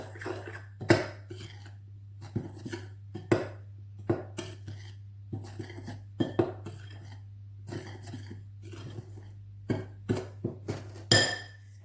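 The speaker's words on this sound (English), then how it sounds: "Stir around." Stirring in a kitchen bowl gives irregular clinks and scrapes of a utensil against the bowl, close and fairly crisp, with pauses between bursts and a low steady hum underneath.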